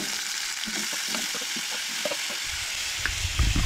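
Onion, chilli and potato frying in oil in a pan, a dense continuous sizzle with soft scattered pops and a few low thumps of stirring near the end.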